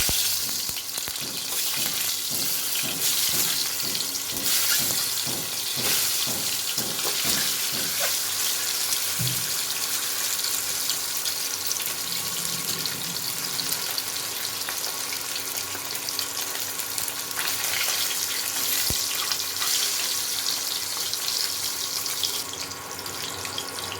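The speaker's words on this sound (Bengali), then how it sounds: "ডিমগুলো আমি ভেজে নিচ্ছি।" Salt-and-turmeric-coated eggs fry in mustard oil in a wok, giving a loud, steady sizzle that runs the whole time, with a quick series of sharp utensil taps early on and no voices.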